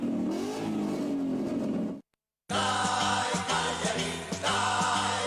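A Ford car engine revs up with a rising whine, cuts to brief silence, then a louder roaring engine returns with music-like tones underneath.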